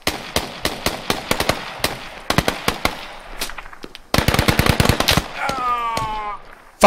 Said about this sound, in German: Ich werde aber auf jeden Fall gerade beschossen.